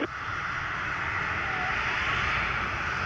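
A Southwest airliner takes off from runway 25 at Montego Bay, its engines a steady, loud, broadband roar that holds evenly for a few seconds with no voices.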